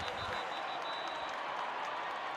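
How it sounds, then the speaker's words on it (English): A high school football crowd at a Massillon versus McKinley game applauds steadily after a penalty flag, a dense wash of clapping from a large stadium audience for a couple of seconds. "Bulldogs are applauding"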